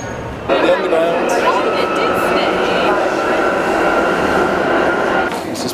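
A London Underground train runs steadily at a station platform, a loud continuous rumble and whine of the carriages holding from start to finish and easing off at the very end.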